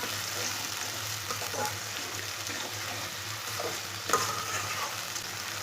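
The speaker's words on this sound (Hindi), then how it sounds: "प्याज और लहसुन को 3 मिनट के लिए भून लेंगे। इसे मीडियम आंच पर भूनना।" Onion and garlic frying on medium heat in a pan for aloo palak, a steady close sizzle with occasional stirring scrapes and one sharper clack, no talk.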